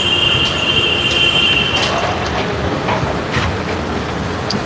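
A metro train runs close by with a steady loud rumble, its wheels squealing in a sustained high whine for the first couple of seconds, then rolling noise with faint clatter continuing.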